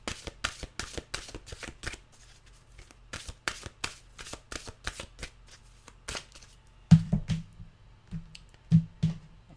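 Mantra cards being shuffled by hand in quick riffling bursts, close and crisp, with pauses between bursts and a few soft low bumps toward the end.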